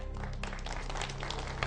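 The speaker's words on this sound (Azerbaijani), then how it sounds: "Hər üç komandanı alqışlayaq." An audience at a quiz show applauding the competing teams: a steady patter of clapping from a crowd, fairly faint and continuous for under two seconds.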